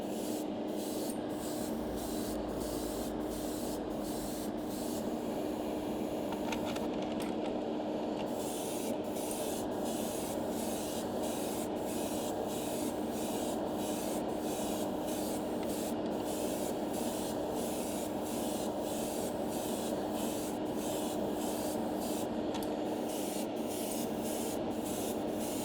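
An airbrush sprays a weathering coat onto a model railway tanker wagon, giving a continuous close hiss broken by regular short pauses and bursts, with a steady compressor hum beneath and no speech.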